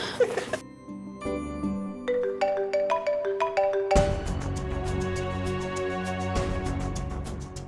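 A phone ringtone plays bright, chiming electronic notes that climb in steps, then move into a busier tune that repeats. No one speaks.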